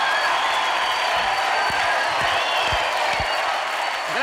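Applause from a studio audience at a televised Operación Triunfo gala, a dense, steady wash of clapping with some cheering, loud and continuous throughout.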